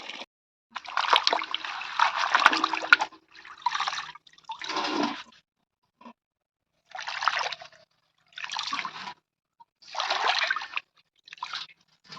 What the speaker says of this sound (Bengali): দেখেছ কত মাটি ভালো করে পাঁচ ছবার ধুতে হবে